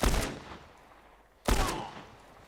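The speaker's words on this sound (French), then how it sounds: "Une balle de fusil." Two sharp, loud rifle shots ring out about one and a half seconds apart in the video game The Last of Us Part 1, each with a short decaying tail and no speech.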